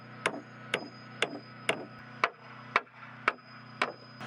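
Nine evenly spaced hammer blows drive nails into rough sawn recycled boards while building a chicken coop, each strike sharp and close over a steady low hum.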